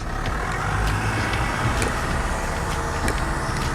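Off-road vehicle creeping slowly down a slope during a Land Cruiser versus Defender test, with a low steady engine rumble, crunching and rattling noise, and a few faint clicks, heard from close by without talk.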